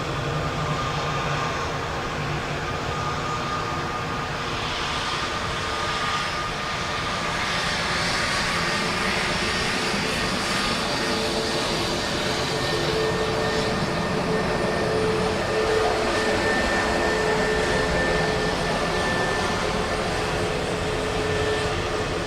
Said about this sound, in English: WestJet just moving out to the centre of the runway